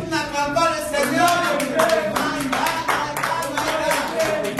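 A church congregation claps to acclaim the Lord during a midnight healing and prayer service, a steady rhythmic clapping loud and close, with voices speaking over it.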